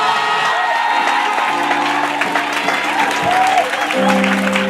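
Church congregation applauding and cheering at a worship service, a steady dense wash of clapping with voices and whoops mixed in, loud and close throughout.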